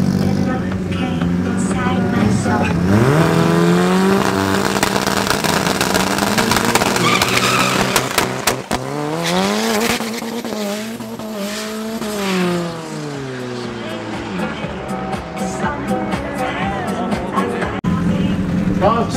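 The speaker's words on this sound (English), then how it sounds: "Last two cars up will be Dean, MPH Performance Diesel." Diesel and other race cars launch down the drag strip at Midvaal Raceway during a street car drag day, with loud engines revving up, roaring and climbing through the gears, and tires squealing and skidding close by.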